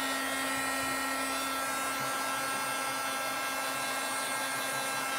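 A heat gun heat-setting ink blows a steady, close-up airy roar with a constant motor hum, unbroken and without talk for the whole stretch.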